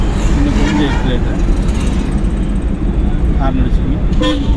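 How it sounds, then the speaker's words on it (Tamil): A car horn sounds in short toots during a driving lesson, heard inside the moving car over road and traffic noise, with people talking throughout. "இதுதான் ஹார்ன்."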